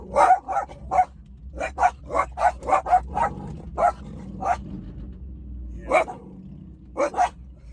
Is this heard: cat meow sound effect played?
no